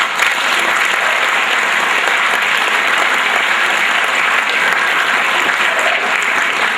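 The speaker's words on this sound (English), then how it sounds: "they deserve a big round of applause for that" An audience claps steadily at a school fall sports awards ceremony, a dense, loud, continuous round of applause that holds evenly for several seconds with no talk over it.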